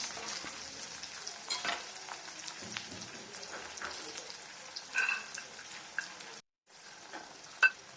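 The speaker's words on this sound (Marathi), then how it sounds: "आता फ्लावर फ्लावरसुद्धा छान एक ते दोन मिनटापर्यंत फ्राय करायचा म्हणजे छान मऊ शिजला जातो तेलामध्ये" Cauliflower frying in oil gives off a continuous rain-like crackle and sizzle with occasional spatters, and the sound drops out completely for a moment near the end.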